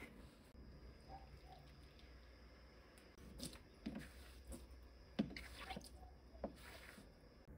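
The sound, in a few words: washing the sink with boiled water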